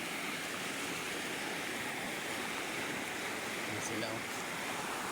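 Rushing floodwater surges through a swollen river in a steady, loud, broadband roar, with a brief voice speaking over it.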